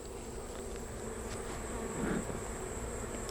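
Honey bees buzzing at an open hive during a brood inspection, a steady close drone with a brief louder swell as one passes near, no talking.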